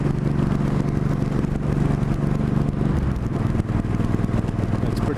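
A Yamaha R1 motorcycle pulls a wheelie on a group ride near Canmore, its engine droning loud and steady with heavy wind rush throughout.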